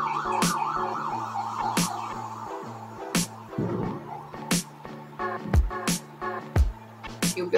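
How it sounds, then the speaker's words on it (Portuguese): An emergency siren passes outside a home, its wavering wail rising and falling at moderate distance, mixed with repeated sharp knocks and clatter from nearby. "assim que passar a sirene"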